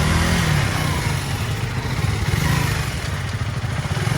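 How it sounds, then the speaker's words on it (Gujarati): A motorcycle engine idles and rumbles steadily at close range, a loud low throb with faint mechanical clatter and no talking. "અને મારી બાઇક લઈને ચાલુ કરી છે."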